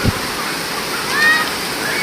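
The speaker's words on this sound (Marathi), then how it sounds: "वॉटरफॉल पण ओव्हरफॉल झालेला आहे" Water pours over the overflowing Nhavankond waterfall at Devgad as a steady, close hiss with a brief thump at the start.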